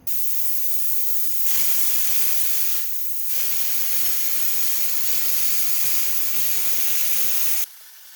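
A hopper texture gun sprays popcorn ceiling texture in steady loud hissing bursts, with two brief pauses between passes and a sharp cutoff near the end.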